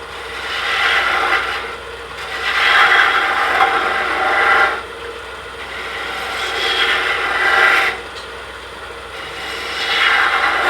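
A woodturning gouge scooping out the hollow of a small wooden tree ornament on a spinning lathe, loud rasping cuts that swell and fade in three long passes over a steady motor hum.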